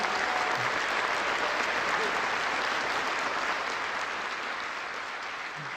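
A large audience applauds at the 54th National Prayer Breakfast with President Yoon Suk-yeol in 2022. The steady, dense clapping fills the hall and eases slightly near the end.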